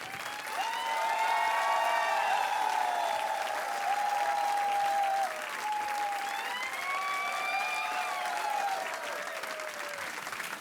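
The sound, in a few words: audience applauding a guest's arrival on a TV quiz show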